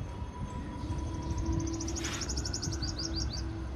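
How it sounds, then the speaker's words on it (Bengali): Several birds chirp on a rooftop garden, a quick run of small tweets over a steady low background hum, moderately near and fairly quiet. "আপনারা বিভিন্ন পাখির আওয়াজ শুনতে পারবেন আমার ছাদ দিয়ে।"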